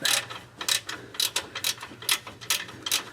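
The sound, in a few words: ratchet wrench tightening bolts on Ford F-250 filter kit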